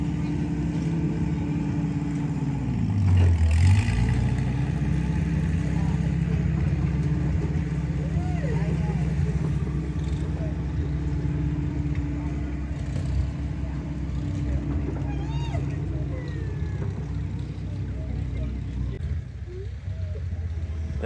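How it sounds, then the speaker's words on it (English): A big 120-horsepower steam tractor runs steadily at a steam museum's Labor Day show, its low engine hum continuous and moderately close, with a brief deeper swell early on and faint background activity throughout. "That is a big steam tractor"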